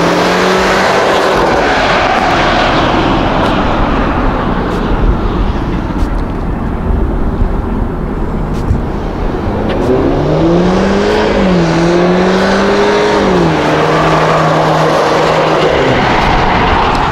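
Audi A5 fitted with a Valvetronic Designs exhaust rolls on from about 40 mph, its engine drone rising steadily under a constant rush of wind noise, loud and close throughout with no voices.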